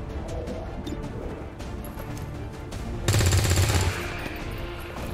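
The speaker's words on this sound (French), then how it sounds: "Ouvrez le feu." Gunfire in XCOM 2: Long War of the Chosen, a dense, loud burst of rapid automatic fire lasting under a second, cutting through a steady background of game ambience and music.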